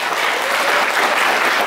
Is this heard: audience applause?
yes